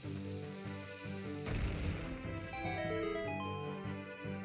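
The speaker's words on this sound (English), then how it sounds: "You gotta love that misleading explosion." A rock blows up in Zelda: Ocarina of Time 3D with one loud booming burst that rumbles and fades under looping game music.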